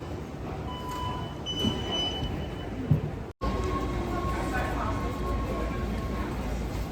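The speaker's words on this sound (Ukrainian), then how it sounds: "Звичайно, наша електричка." An electric commuter train at an Amsterdam station, its steady rolling rumble and rail noise filling the scene with a brief cutout midway, while people talk nearby.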